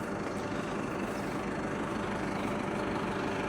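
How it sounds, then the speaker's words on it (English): A tractor stands idling at a farm shed, its heavy engine producing a faint, steady low rumble that continues evenly with no change in pace. "there's the tractor all ready to go"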